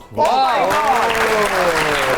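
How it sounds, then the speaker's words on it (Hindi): A crowd applauds steadily and loudly while a voice rises over the clapping, drawn out and musical, as the applause carries on to the end. "आपकी बहुत सी तालियों में सदफ राजपूत।"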